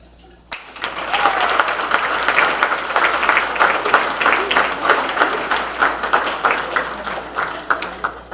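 Audience applause for the Woburn Hall of Fame 2024 inductees breaks out suddenly and holds steady, a loud crowd clapping with individual claps distinct, thinning slightly toward the end.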